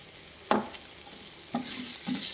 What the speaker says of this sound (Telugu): ఇది ఆల్మోస్ట్ ఫ్రై అవుతుంది.